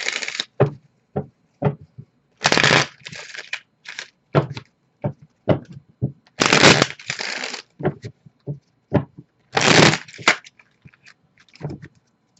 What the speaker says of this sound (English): let's move on to finance and career after I shuffle these cards